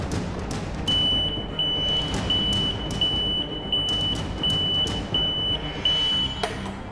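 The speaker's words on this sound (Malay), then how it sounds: "Buzzer akan berbunyi menandakan fuel cap masih terbuka." A fuel cap indicator buzzer sounding because the fuel cap is still open, tied to an engine kill switch: a steady series of short, evenly spaced electronic beeps, clear and close, with background hum.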